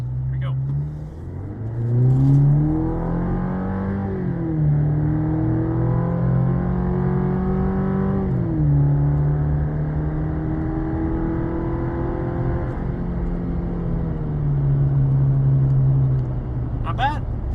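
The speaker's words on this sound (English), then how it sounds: "Alright, so now we're going to do a little wide open throttle test here. Interior noise." Interior sound of a 2023+ Chevrolet Colorado ZR2 with an aFe exhaust at wide open throttle from about 65 mph, a loud droning engine note rising through the revs, dipping at shifts and climbing again.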